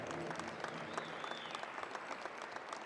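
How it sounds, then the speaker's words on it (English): An audience applauding the Residential School Survivors Circle at a track and field national championship, steady sustained clapping from a large crowd, heard at a distance and fairly faint. "Let's give our Residential School Survivors Circle a big round of applause."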